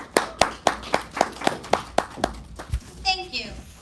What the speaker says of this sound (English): please welcome her with